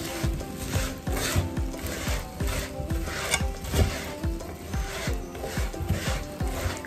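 Puffed rice being mixed by hand for laddu, a rough rhythmic rustling and rubbing of dry grains in a vessel, repeated in quick strokes close up with no talk.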